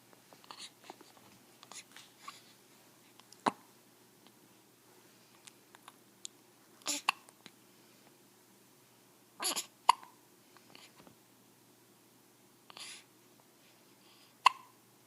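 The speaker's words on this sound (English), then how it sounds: "and I have hiccups." A newborn baby, not quite a week old, hiccups repeatedly, short sharp catches spaced irregularly a few seconds apart, close and clear against a quiet room.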